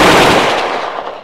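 Rapid automatic rifle fire in the video game Apocalypse Not, a dense continuous burst of loud gunshots lasting over a second with no voices.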